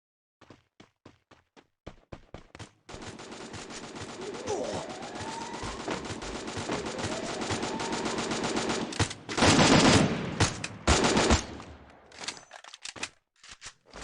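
Free Fire battle royale gunfire starts as a few sharp separate shots, then becomes a long dense rattle of rapid fire that swells and breaks off near the end.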